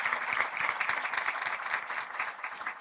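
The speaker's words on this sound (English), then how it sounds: "you should actually applaud them" Applause from an audience at a women's festival session: moderately faint, steady clapping from a modest crowd, with individual claps audible in an even patter throughout.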